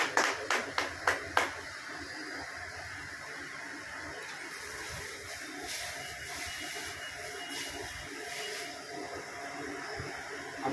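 An audience at an honouring ceremony claps for guests, opening with a few distinct, rhythmic claps that give way to a steady, hissing wash of sustained applause.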